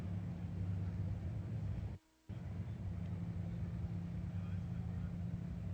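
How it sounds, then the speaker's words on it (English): Top fuel dragster engines warming up in the pits at a drag racing event make a steady, distant low drone that cuts out briefly midway and then resumes. "Can hear fuel cars being warmed up in the pits right now."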